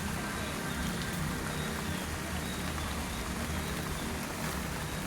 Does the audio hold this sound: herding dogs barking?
no